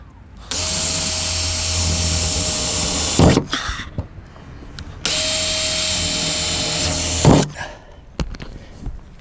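A power drill whines at high speed in two long bursts while boring holes to install a MaxxAir MaxxFan Deluxe roof vent, each ending with a rough grinding bite and clatter, separated by brief handling noises.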